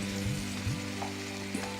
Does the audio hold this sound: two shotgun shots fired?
no